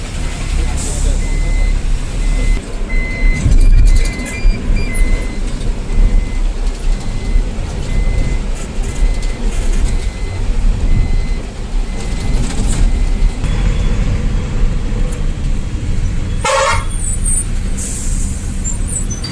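A bus rolls along a narrow small road, its deep engine rumble steady and loud, with occasional air-brake hiss and rattles, and voices talking over it.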